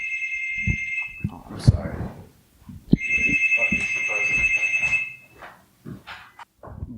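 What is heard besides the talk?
buzzer going off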